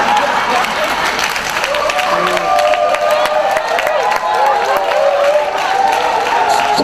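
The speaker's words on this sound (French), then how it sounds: "Quand il ne faut pas applaudir, vous applaudissez." An audience at a live stand-up comedy show in France claps in a dense, sustained burst of applause that fills the hall, with cheers and voices rising through it.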